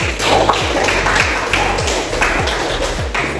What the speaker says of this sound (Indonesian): tepuk tangan untuk Dwi dan Nisbi